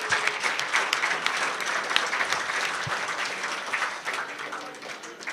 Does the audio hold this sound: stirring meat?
no